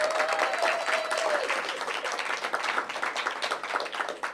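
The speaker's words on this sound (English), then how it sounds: "Give her a big round of applause." An audience at a community schools grant announcement gives a short burst of hand clapping, fairly close and even, fading gently toward the end.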